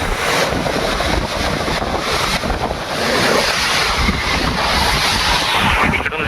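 Huge monsoon sea waves crash and surge along the shore at Harihareshwar, a dense, roaring wash of surf with heavy wind buffeting the microphone throughout.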